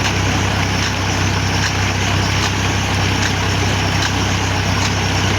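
A G.M Universal U 533 tractor engine drives a tube-well pump delivering water through a 6-inch outlet, a loud, close and constant rumbling drone under a steady rushing wash.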